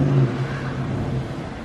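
A car revving and running rough at a Joy Ride free show after Hurricane Idalia, its steady low engine drone loud and close throughout with no talk over it.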